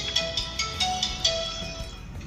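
A phone ringtone plays alone, a bright repeating electronic melody of short chiming notes in a quick rhythm, fairly close and clear.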